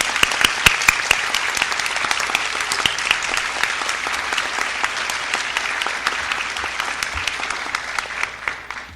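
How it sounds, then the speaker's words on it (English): Sustained audience applause at an award ceremony honoring winners, dense steady clapping throughout with a few sharper individual claps up front, no voices. "Can we give one more final applause for all of our winners tonight?"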